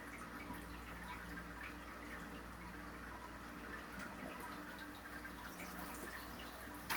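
Water trickles and drips through the grain bed of a Klarstein Brewster Brew Monk homebrew system during sparging, a faint, steady, continuous patter with a small splash at the very end.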